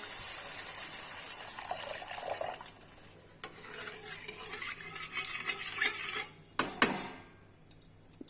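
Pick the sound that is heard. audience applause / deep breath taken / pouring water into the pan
pouring water into the pan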